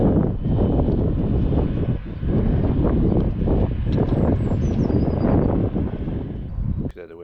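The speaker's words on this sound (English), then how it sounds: "The wind's starting to pick up in that last clip" Steady wind blows across an outdoor golf course at Sinfin Golf Course, a continuous broadband rush with gusty swells that stays loud throughout, ending with a brief sharp knock near the end.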